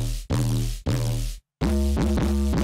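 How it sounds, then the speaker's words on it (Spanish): Synth bass run through Saturate distortion with the drive at 10 dB, heard as loud, buzzy, harmonically rich notes in short chopped bursts separated by abrupt gaps, with pitch slides between notes. "lo que le agregué fue una distorsión, en este caso el de Saturate, con el drive a 10 decibeles."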